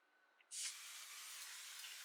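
One long burst of Urban Decay All Nighter setting spray fires from a pump bottle, a soft, close hiss lasting about a second and a half.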